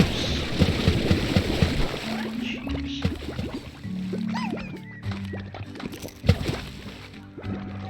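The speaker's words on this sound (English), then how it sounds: "Should not have jumped in the water." Water splashing and sloshing as a character jumps into water in the video game Slime Rancher, a burst of splashes followed by gurgling game sounds and tones, with a man briefly exclaiming.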